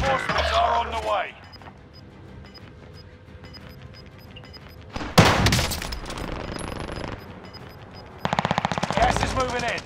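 Bursts of automatic gunfire in the Warzone battle royale video game, a loud burst near the middle and another rapid burst at the end, with game announcer voice lines and ambient battle noise between.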